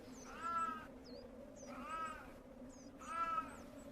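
A wildcat calling, three drawn-out wailing yowls at even intervals over a low steady hum, with faint bird chirps between them.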